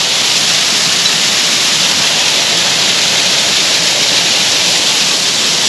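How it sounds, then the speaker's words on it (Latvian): Steady, dense roar of a waterfall, loud and continuous without any break, heard close at hand with no other sounds. "Smuks ūdenskritums"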